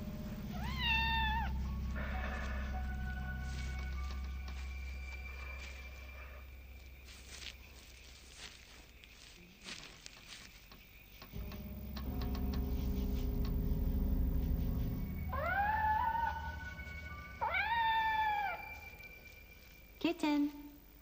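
Several distinct cat meows rise and fall at moments through a tense indoor horror-film scene, with a low rumbling score and a voice speaking between them; meows cluster near the start and again toward the end.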